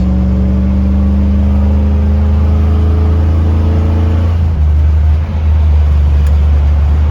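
Car engine on a long highway drive, a loud sustained drone with rising tonal whine as it pulls harder, then a shift to a broader steady roar, close and continuous with no talk.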